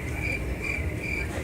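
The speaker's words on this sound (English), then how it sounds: "Let's just make sure we have an audio of crickets in there" Steady chirping of crickets, a repeating high trill pulsing evenly over a low background rumble, continuous and moderately loud with no voices.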